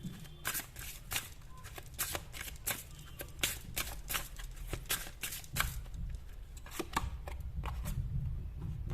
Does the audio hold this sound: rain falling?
no